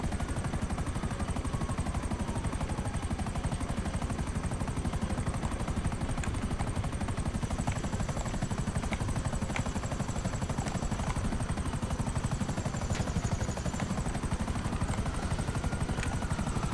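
A helicopter in GTA 5 Online roars continuously and loudly, with fast, pulsing rotor chop and a high turbine whine throughout, close and unbroken.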